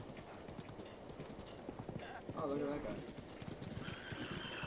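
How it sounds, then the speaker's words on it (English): A horse in The Legend of Zelda: Breath of the Wild whinnies once, clearly, amid steady clip-clopping hooves while someone talks over it. "Get a horse. I've got a horse."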